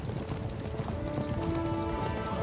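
Horses gallop in the medieval role-playing game Kingdom Come: Deliverance II, a steady clip-clop of hooves with a faint whinny, continuous and fairly close over a busy game soundscape.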